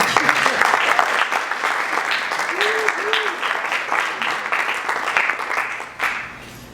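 An audience at a Virginia Tech graduation ceremony applauds in a dense, sustained burst of clapping that carries on for several seconds before tapering, with a voice briefly heard over it.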